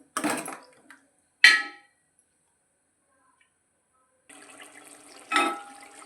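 Water poured into a pot while cooking a white potato kurma in a home kitchen, in short splashing bursts separated by quiet gaps, with a longer steady pour near the end.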